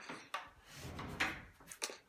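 A wooden pocket door in a house slides along its track, giving faint rolling and rubbing noise with several soft knocks and bumps, quiet and close.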